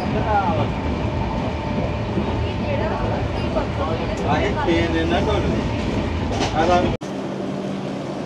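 The 12857 Tamralipta Express runs fast, around 111 km/h, on a single line with a close, steady rumble and rattle of the rails. A voice talks over it, and the sound cuts off abruptly near the end.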